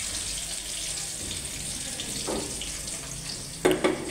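Chopped onion and garlic frying in a pan for a potato, cauliflower and egg dish, a steady soft sizzle running throughout with a few brief clatters near the end.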